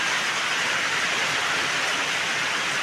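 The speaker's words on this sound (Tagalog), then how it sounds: "Nakaka-nervous na po ang ulan" Heavy rain pours down in a steady, dense hiss, a loud unbroken wash of sound with no voices over it.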